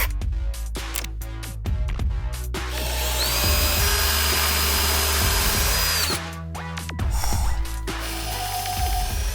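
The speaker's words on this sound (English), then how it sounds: "We're gonna drill them right now." Power drill boring holes through a plastic CD for a homemade bubble machine, a loud steady whine running several seconds with short bursts before and after, close and alone without talk.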